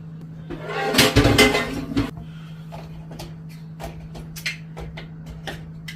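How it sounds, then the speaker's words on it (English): Stove cleaning in a home kitchen with a broken stove part: scrubbing and rattling of pots and metal parts, loudest in the first two seconds, then scattered light clicks and taps over a steady low hum. "Now it's time to clean. I'm going to do the stove first."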